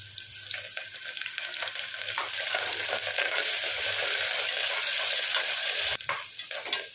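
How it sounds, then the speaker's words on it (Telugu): Chopped onion and curry leaves fry in a pan, giving a steady, close sizzle that brightens and thickens midway, broken by a few soft stirring scrapes near the end. "చూడండి, ఉల్లిపాయ అయితే ఫ్రై అయ్యిందండి."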